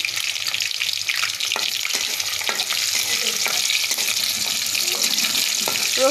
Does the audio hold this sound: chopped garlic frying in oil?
yes